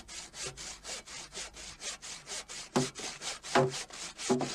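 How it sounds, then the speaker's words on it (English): Hand sawing through wood to trim excess from a log wall with a triangular frame saw, steady back-and-forth strokes repeating about every half second, close and clear with no talk. "the excess wood was cut off using a triangular frame"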